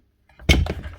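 A power tool guard is pushed onto its housing and clicks down into place on a repaired Makita, Dewalt or Bosch tool: a single close, solid snap-thunk after brief fumbling, then a short rattle.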